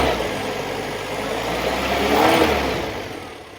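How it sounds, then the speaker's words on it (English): A Sunbeam Alpine engine fed by Stromberg carburettors idles while running slightly cold, giving a steady low mechanical hum with a gentle swell in revs partway through, close and alone. "The engine's running a little bit cold"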